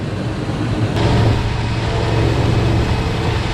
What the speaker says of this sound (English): In the tractor we go.